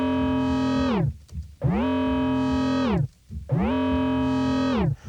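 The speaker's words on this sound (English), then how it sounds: "We also have the filter scream sort of macroing down towards the end of the sound." Distorted synth bass patch built in Serum 2, Skrillex style, sounding as three loud, gritty sustained notes with buzzing harmonics, each ending in a filter scream that sweeps downward, separated by brief gaps.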